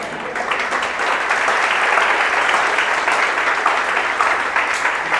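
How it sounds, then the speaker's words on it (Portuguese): Steady applause from a church congregation, sustained and fairly loud throughout, with a few scattered voices mixed in. "aplauda a Jesus Cristo"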